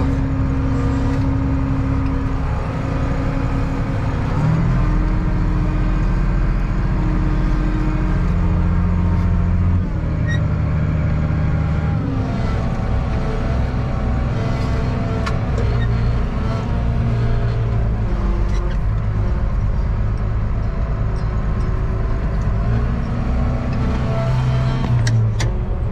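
A Case Magnum 7210 tractor ploughing a field in spring after carrots with a Campbell roller drones steadily and loudly close by, a constant heavy engine rumble with slight load changes throughout.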